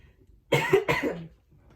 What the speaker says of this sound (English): I don't know why I just started coughing